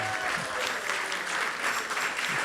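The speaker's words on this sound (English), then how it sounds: "Give a big round of applause." A round of applause from an audience at a Krishna katha gathering, with steady, moderately loud clapping that sounds somewhat distant and continues evenly throughout.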